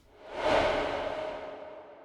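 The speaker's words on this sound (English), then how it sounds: "And lastly, we have the Whooshes." A single cinematic whoosh from the Astraeus trailer sound design library for Kontakt swells up quickly, then trails away smoothly over about two seconds, heard alone.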